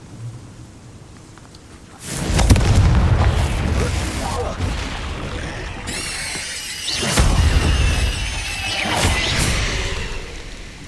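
Blasts from the Confringo fire spell thunder in the game Hogwarts Legacy, two or three loud booming explosions with shrill squeals and whooshes in a fight against hatchlings.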